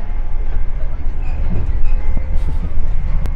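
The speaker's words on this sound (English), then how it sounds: "so we finally got on board the train to Penzance" Inside a passenger train bound for Penzance, a steady low rumble of wheels and carriage with rattles and occasional clicks and squeaks, continuous and fairly loud throughout.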